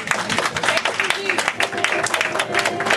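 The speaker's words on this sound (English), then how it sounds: "let's receive him by clapping our hands" A church congregation claps hands to welcome the bishop: loud, close, busy clapping from many hands, sharp individual claps merging into a steady patter for a few seconds.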